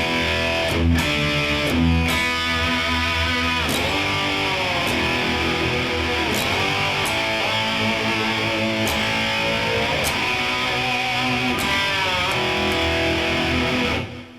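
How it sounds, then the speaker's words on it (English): Distorted electric guitar with the whammy bar pulling notes into gliding, slide-guitar-like bends, a steady loud lead line with repeated swoops and sharp attacks, played alone. "I like to just kind of pull anything that I can with the whammy, and you can get kind of a slide guitar sound"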